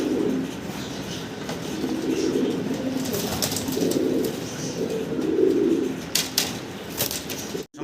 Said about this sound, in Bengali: কতটা অ্যাক্টিভ কবুতরগুলো দেখতে পারতেছেন দর্শক